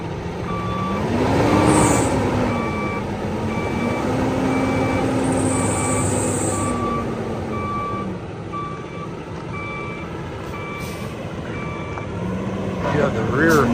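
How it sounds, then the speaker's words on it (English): Reversing beeper on a 2016 Peterbilt 579 truck: a steady, evenly spaced series of loud electronic beeps over a rumbling engine, with a voice speaking underneath. "You have the rear beeper when you're in reverse there"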